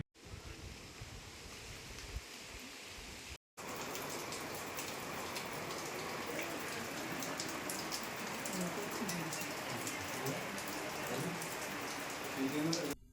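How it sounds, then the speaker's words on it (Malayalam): Continuous monsoon rain pours down in a dense, unbroken roar, with a brief dropout early on before the downpour resumes. "തുടർച്ചയായി പെയ്യുന്ന മഴയിൽ പല സ്ഥലങ്ങളിലും കനത്ത തോതിലാണ് നാശനഷ്ടം"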